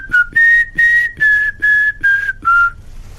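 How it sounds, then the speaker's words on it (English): A man whistles the opening notes of the Some Mothers Do 'Ave 'Em theme, seven clear, evenly spaced tones, loud and close, with no talking. "I used to whistle the very first part of the Some Mothers Do Have Them theme"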